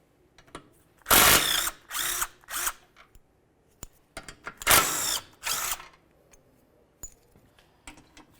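On a Dodge Journey, a ratchet fitted with a 16mm socket works loose the water pump mounting bolts. Fast metallic clicking comes in two clusters of bursts, close and fairly loud, with quiet gaps and a few small clinks between them.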